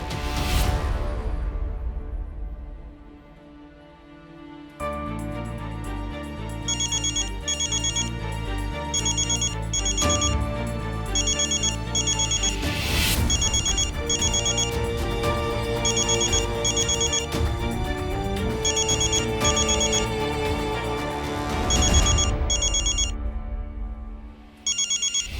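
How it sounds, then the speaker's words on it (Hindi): A phone ringtone plays on a call back to a number, a loud electronic melody repeating steadily for over twenty seconds after a short whoosh-like intro, with brief pauses between rounds. "ए गंगाराम, एक काम कर, जिस नंबर से तुझे फोन आया ना, उस नंबर पे वापस फोन कर"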